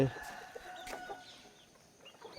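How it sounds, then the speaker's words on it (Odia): Chickens cluck and call close by in a short burst, a few clear squawks over quiet farmyard background, with no talking. "ହେଉଛନ୍ତି କୁକୁଡ଼ା।"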